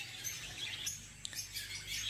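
Lovebirds in a breeding setup with green and yellow mutation birds and chicks, giving faint, scattered high chirps and brief tweets at a distance over a low steady background hum.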